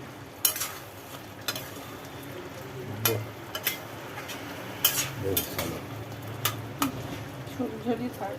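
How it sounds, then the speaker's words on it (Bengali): A pointed gourd and prawn curry with garam masala is stirred in a pan, with repeated scraping and clinks of a spoon against metal over a low sizzle, fairly quiet and irregular. "একটু গরম মশলার গুঁড়ো একটু নাড়িয়ে নিয়ে"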